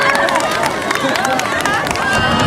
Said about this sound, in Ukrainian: Вітаємо, хто має шарики, аплодуємо.